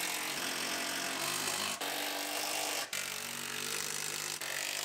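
A power tool runs continuously while bolting a car seat into a 2013 Buick Enclave, a loud steady whir broken by three short dips where the trigger eases, with no talk.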